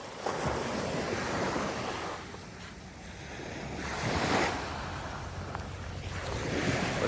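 Ocean waves wash steadily onto Klong Chau Beach on Koh Chang under a grey sky, a continuous broad surf roar swelling and easing with heavy wind buffeting the microphone, with no voices.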